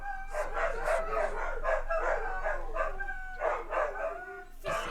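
Dogs in the video game Assassin's Creed Shadows bark and howl repeatedly in close, overlapping bursts that carry on steadily for several seconds without talk.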